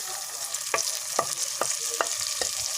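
Cumin, salt and tomatoes fry in a pan for aloo methi, with a constant hiss of oil under about five evenly spaced scrapes of a stirring spoon; close, steady and without speech.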